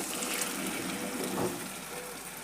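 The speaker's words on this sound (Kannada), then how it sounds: "ಈಗ ನಾವು ಅವ್ರೆಕಾಳು ಕುದಿಸಿಟ್ಕೊಂಡಿದ್ವಲ್ರಿ, ಇದನ್ನು ಹಾಕ್ತೀನಿ ನೋಡ್ರಿ" Boiled avarekalu field beans with their cooking water are poured into a pan in a North Karnataka kitchen, making a steady close splashing gush that lasts throughout.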